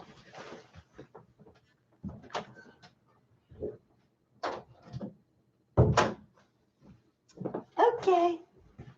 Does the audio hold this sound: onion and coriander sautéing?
no